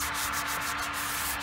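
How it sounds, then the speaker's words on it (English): A hand sander rubs back and forth across a wooden window sill in quick repeated strokes, a continuous scratchy hiss up close. "I'm also gonna touch up some of the last minute spots here with a hand sander"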